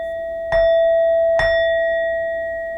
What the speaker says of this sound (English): The chime is important.